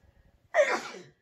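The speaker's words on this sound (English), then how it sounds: "I thought I was going to sneeze again" A single sneeze, close and fairly loud, a sharp burst that trails off over about half a second after a brief quiet intake.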